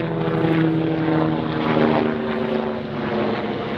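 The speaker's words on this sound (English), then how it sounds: "That's a helicopter." A helicopter flying over Old Fold Manor golf course, a loud steady droning rotor and engine roar with a constant low pulse that fills the whole stretch, swelling slightly and then easing, with no talk.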